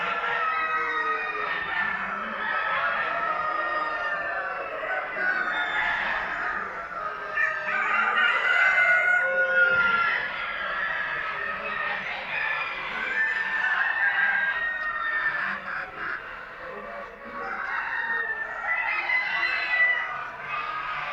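A flock of ornamental chickens at a poultry show competition clucks and calls continuously, with roosters crowing repeatedly over the busy, fairly loud background of birds.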